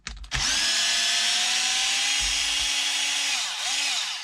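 Close power-tool whine of a screw being backed out of a Traxxas XRT RC truck, one steady high-pitched run of about three seconds that dips briefly, then a short second burst.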